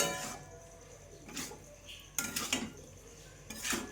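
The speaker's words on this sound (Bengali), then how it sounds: "এক চিমটির মতন গরম মশলাটা দিয়ে একটু নাড়াচাড়া দিয়ে নেব" A spoon stirs a pot of day-old fish curry just after garam masala goes in, making a few quiet, scattered clinks and scrapes against the metal.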